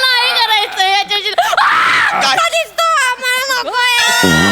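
A comic stage performer screams loudly on a Marathi comedy show, a long sustained wavering shriek mixed with yelling and shouted talk, close and loud throughout.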